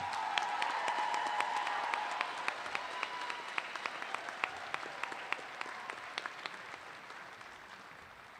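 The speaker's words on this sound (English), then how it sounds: "Let's give these scholarship recipients a round of applause." An audience at a high school graduation applauds scholarship recipients with dense, sustained clapping, a few sharp individual claps standing out as the sound slowly thins and fades.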